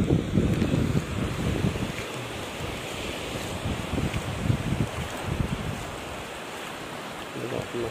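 Sea surf and gusty wind at the shore, a steady broad rush with low wind rumble buffeting the microphone throughout, waves swelling slightly in the middle and easing toward the end.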